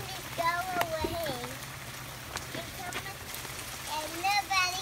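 Rain falls outdoors near a porch, a soft steady patter in the background while children chatter and sing over it in the foreground.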